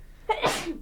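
A single sharp sneeze from one person, close and fairly loud, with a quick intake followed by the burst and a brief trailing tail.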